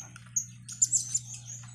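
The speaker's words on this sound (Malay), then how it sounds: "itu burung yang bunyi kek-kek itu baru saya masukkan" Short, high chirps and kek-kek calls of a blue-crowned hanging parrot repeat irregularly over a steady low hum, fairly close and moderately loud.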